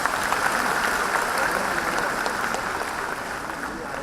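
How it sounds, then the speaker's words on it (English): Loud sustained applause from a conference audience at the IMA Conclave in Indore, a thick even roar of clapping that tapers slightly toward the end. "Can we have a big round of applause for them?"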